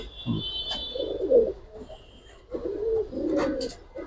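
Pigeons coo in a pair of low, rolling bursts at a bustling pigeon market, close and clear, with faint chirps and a brief thin tone in the background.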